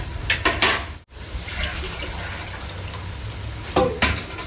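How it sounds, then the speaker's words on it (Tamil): Water splashes and gurgles as it pours into a cooking pot of sautéed goat head curry ingredients, close and fairly loud, with a brief pause and a second splashy burst near the end. "இதுக்குள்ள வந்து நம்ம தண்ணி ஊற்றிக்கலாம்"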